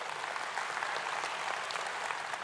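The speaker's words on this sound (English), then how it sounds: "You can clap for that." A church congregation claps together in a steady, dense burst of applause that fills the room evenly from start to finish, with no voices rising above it.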